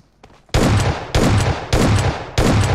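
Automatic gunfire in the mobile battle royale PUBG Mobile, four loud close bursts of rapid shots in quick succession, each cut off sharply, with no voices.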